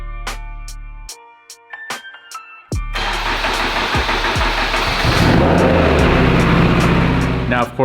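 A Honda Civic Type R with a newly fitted turbo cranks with a few sharp clicks and then catches, roaring up loud and close into a rough, pulsing idle that keeps running steadily.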